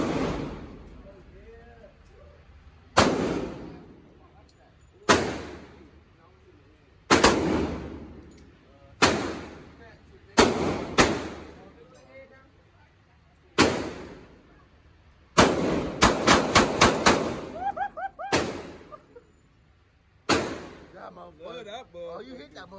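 Gunshots at an outdoor gun range: about a dozen loud, sharp reports, mostly single and spaced a second or two apart, with a quick rapid burst of several shots midway, while voices talk between them.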